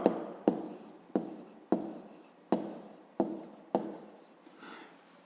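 Pen scratching across paper as an answer is written by hand for a fifth-grade geometry exercise on cutting a square along its diagonals; six distinct scratchy strokes come in a steady rhythm, close and fairly quiet, with no talking.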